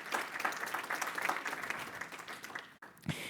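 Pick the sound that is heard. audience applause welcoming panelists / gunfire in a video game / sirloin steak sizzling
audience applause welcoming panelists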